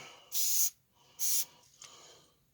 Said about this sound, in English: go ahead and just spray the edges.